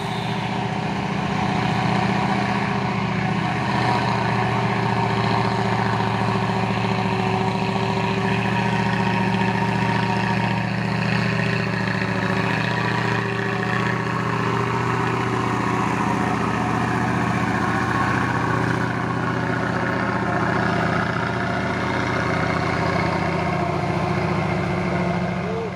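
A Hino 500 truck engine idles in a continuous low drone with a steady hum, heard up close and unchanging, with faint background noise and no clear talk.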